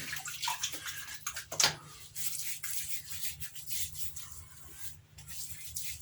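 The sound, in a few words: water splashing while wetting face before a shave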